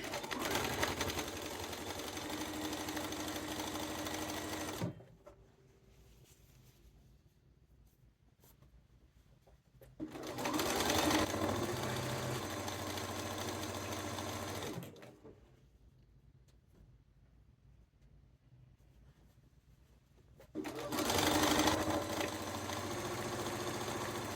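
Domestic sewing machine stitching the cuffed sleeves of a duster coat, running in steady whirring bursts of about five seconds, each separated by quiet pauses while the fabric is repositioned.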